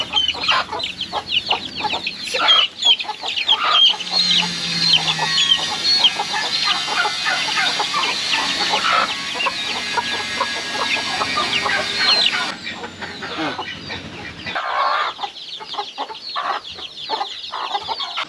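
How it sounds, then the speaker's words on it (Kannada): Chickens, including a hen pushing its way indoors, cluck and cackle nearby in repeated bursts that keep going for about eighteen seconds with no voices. "ಕೋಳಿ ಕೂಡ ಒಳಗಡೆ ನುಗ್ಗುತ್ತ"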